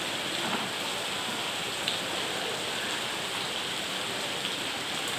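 Rain falls in a steady, even hiss of drops on surfaces, continuous and moderately loud throughout, with no voices.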